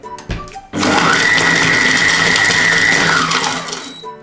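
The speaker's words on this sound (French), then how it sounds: "Et on va mixer quelques secondes. On le met 3 secondes vitesse 5." A Compact Cook Platinum blends speculoos biscuits at speed 5, a loud, steady whirring motor run of about three seconds that starts abruptly after a few short clicks and winds down at the end.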